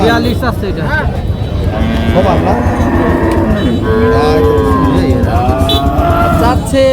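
Loud moos from a native-breed cow at a cattle market rise and fall several times at close range over a busy background of chatter and crowd noise.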